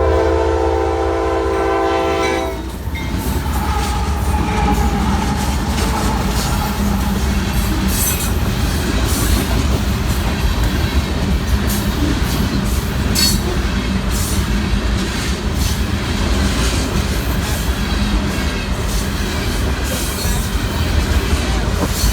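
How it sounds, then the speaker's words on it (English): A long freight train, the juice train, passes Big Bend siding: a brief horn blast opens, then a loud, continuous rumble and clatter of wheels on rails with occasional squeals, sustained as the cars roll by. "the juice train passed."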